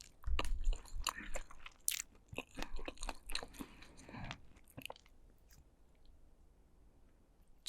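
Someone bites into and chews a crunchy spicy dumpling up close, with loud crisp crunches in the first half that fade into softer, wetter chewing, and no talk.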